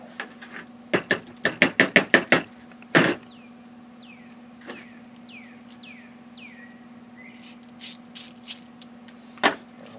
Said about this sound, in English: take a Phillips screwdriver and an 8mm socket, pull the old ones off